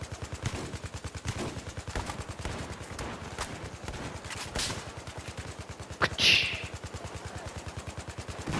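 Rapid automatic gunfire in the Battlefield video game, a steady rattling stream of shots running throughout, with a louder burst near the end.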